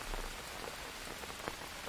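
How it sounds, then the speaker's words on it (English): Steady rain pattering in the jungle survival game Green Hell, a dense even hiss like drops drumming on a roof, continuous throughout with no voices. "That rain sound is very pleasing to my ears. It's really sound a bit like hitting the roof."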